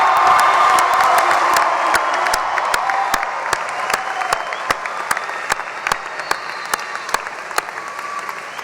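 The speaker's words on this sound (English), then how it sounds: "please, will the class of 2014 join me now in a round of applause" A graduation audience breaks into a loud, sustained round of applause with cheering and whoops, dense clapping filling the hall and slowly thinning toward the end.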